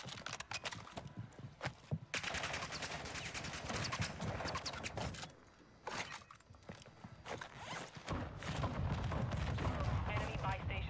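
An RPK machine gun fires in Warzone, rapid bursts of shots broken by short pauses, with a louder sustained burst near the end and the player talking intermittently.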